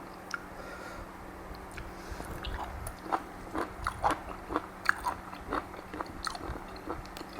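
Crunchy food bitten and chewed up close during a Thai home-cooking tasting of jaew khom dipping sauce, with a steady series of crisp crunches over a faint low hum and no talking.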